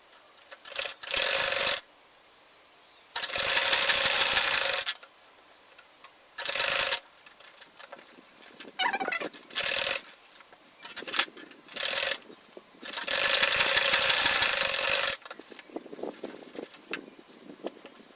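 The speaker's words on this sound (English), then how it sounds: "Sew it down now." A sewing machine stitches an insulated lunch bag in short runs, bursts of rapid mechanical whirring separated by quiet pauses and small handling clicks, close and clear, no talking.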